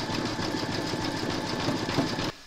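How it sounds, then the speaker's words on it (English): An embroidery sewing machine zigzag stitches appliqué pieces together, a steady close mechanical whirr with rapid needle chatter that stops abruptly at the end. "Pop your hoop into your machine and stitch round number 10, and that's going to zigzag along here and join the two pieces together."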